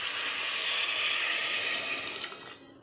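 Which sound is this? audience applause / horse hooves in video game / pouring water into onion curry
pouring water into onion curry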